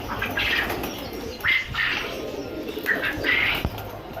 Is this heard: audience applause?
no